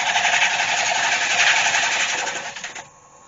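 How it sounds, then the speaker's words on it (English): A wood lathe spins a silver birch hollow form while it is sanded, giving a steady, loud whirring rasp that cuts off abruptly near the end and leaves a quieter hum. "I just go in there and sand that up"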